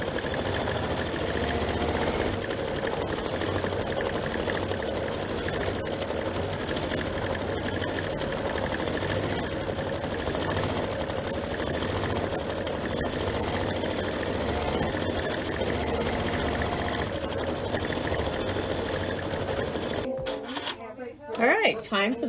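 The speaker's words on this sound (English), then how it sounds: "We'll let that sew for a little bit" A Kimberbell embroidery machine stitching out a paisley belt bag design hums and clatters steadily up close for about twenty seconds before stopping, with some handling noise at the end.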